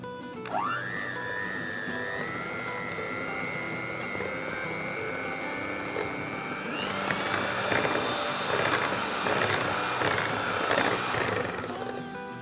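A kitchen blender whirs steadily as it mixes muffin batter for peanut butter chocolate chip muffins with honey, rising in pitch as it starts and then growing rougher and louder near the end, with no voices over it.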